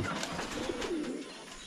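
Pigeons coo softly inside a coop, a low, rolling call near the middle set against a busy, steady background of ambient noise.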